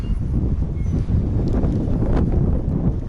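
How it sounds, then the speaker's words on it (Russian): Steady wind blowing outdoors in the taiga, a constant low rumble with gusty buffeting against the microphone throughout, no voices. "Ветер."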